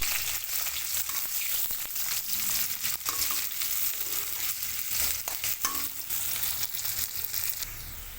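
Onions sizzle and crackle steadily in hot oil in a pan alongside potatoes and soya chunks, a continuous near frying hiss with occasional stirring scrapes and no voices.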